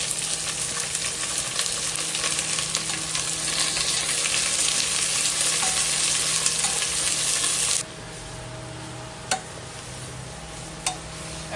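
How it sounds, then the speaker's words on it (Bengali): Thinly sliced onions fry with bay leaves and cloves in hot oil for a Bengali mutton kosha, giving a loud, steady sizzle that drops sharply to a quieter crackle near the end, with a few faint clicks. "ভালো করে এটাকে আমাদের ফ্রাই করে নিতে হবে।"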